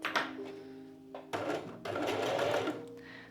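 A domestic sewing machine stitching along the seam groove of a gathered sleeve cuff, short bursts of rapid mechanical whirring separated by brief pauses, close and clear with no talking.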